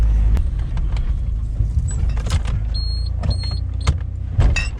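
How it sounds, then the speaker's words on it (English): A car's electric window winds down with a thin motor whine in short bursts, heard over the steady rumble of the engine and rough-road noise inside the vehicle, and no one talks. "It's just going to wind down my window"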